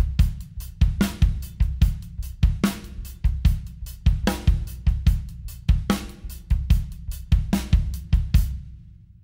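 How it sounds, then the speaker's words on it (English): Drum kit playing a groove, steady ride cymbal pattern over punchy kick and snare backbeat, loud, close and rhythmic throughout with no talking. "moving over onto the ride cymbal. But the kick drum pattern is essentially the same, and that feels like this."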